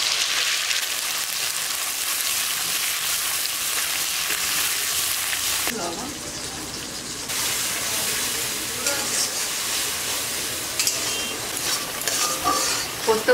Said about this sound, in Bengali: পোস্ত ভালো করে তেলে কষে নিয়েছি